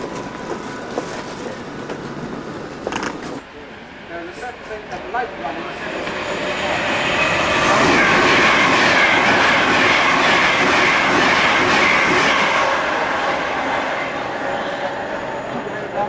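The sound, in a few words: train passing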